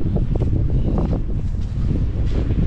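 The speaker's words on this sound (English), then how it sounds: "Still quite windy now, but the rain has stopped anyway." Strong gusty wind from Storm Kathleen blows across an outdoor lambing field, a loud steady roar with buffeting rumble into the microphone and no speech.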